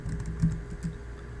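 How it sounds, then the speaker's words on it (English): Typing on a Mac computer keyboard, several close light key clicks in an irregular quick burst over a quiet background. "when I hit Command Space and type in Flickr"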